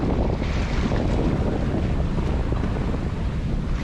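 Strong, steady wind buffets the microphone over the rush of water from a boat moving toward Cat Harbor, loud and continuous with no voices.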